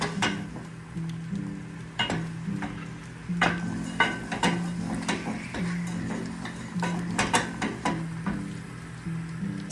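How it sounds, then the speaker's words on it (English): Semolina being stirred and toasted in a pan for basbousa, a soft sizzle under repeated light clinks and scrapes of a spoon against the pan, close by and steady. "keep stirring it until it gets the color"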